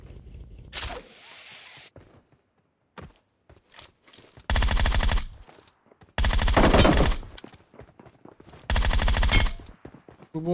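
Gunfire in the mobile battle royale PUBG Mobile: three loud sustained bursts of rapid automatic fire, separated by short gaps holding a few isolated single shots and quieter scuffling movement.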